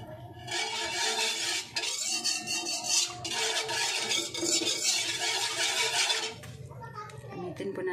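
A spatula scrapes and clatters against a pan while an evaporated milk dessert is stirred, metallic rubbing repeating through most of the stretch, with a voice chattering over it and a brief pause near the end.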